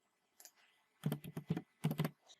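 Computer keyboard typing: a quick run of distinct key clicks in two small clusters after a few isolated taps, close and clear in a quiet room with no talking.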